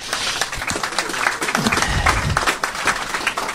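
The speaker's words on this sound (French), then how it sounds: "Bravo, on peut l'applaudir." An audience claps after a talk on culture and metropolitan development, a dense, steady burst of applause heard up close, with a few voices faintly mixed in.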